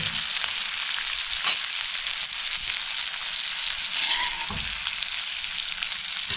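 Prawns deep fry in hot oil in a wok over a wood-fired stove, a loud continuous sizzle and crackle running steadily with a brief surge of bubbling midway, no voices.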